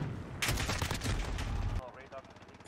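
Rapid gunfire rattles loud and close in the first-person shooter Call of Duty: Modern Warfare (2019) multiplayer, a dense automatic burst lasting over a second before cutting off abruptly into quieter game noise.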